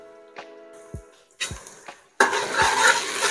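Biryani masala with mint, coriander and shahi jeera frying in a pot for chicken biryani: scattered clinks and scrapes of stirring, then a louder, steady sizzle taking over near the end.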